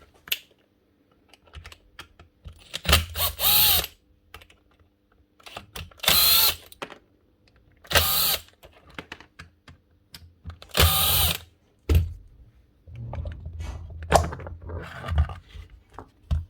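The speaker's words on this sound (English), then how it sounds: "4 screws now to just take this off." Several short bursts of a cordless screwdriver or drill backing out the four screws on the motor section of a Virutex MC16L door mortiser, loud whirring runs separated by quiet pauses and small clicks.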